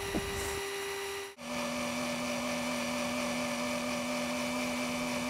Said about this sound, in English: I'm going to resort to the old-fashioned cordless drill once again.